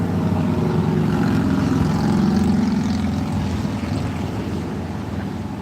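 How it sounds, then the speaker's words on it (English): A motorcycle passes by outside a patio, a broad engine drone rising and fading over about six seconds with no talk. "Motorcycle alert."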